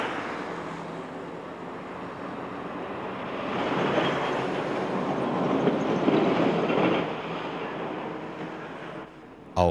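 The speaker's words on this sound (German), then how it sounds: "Auch im Freihafengelände ist reger Rangierverkehr zu beobachten." Train shunting through the rail yard of the Hamburg free port, a continuous rumbling and rolling of cars that swells in the middle, heard at moderate distance with no talk.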